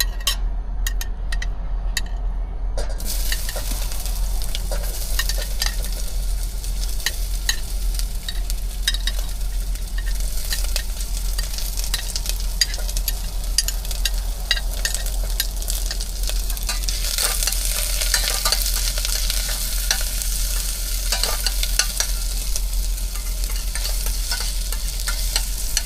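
Onions frying in a pan for sotanghon with sardines, a steady close sizzle running the whole time with scraping stir strokes and brighter crackling bursts late on, no voices.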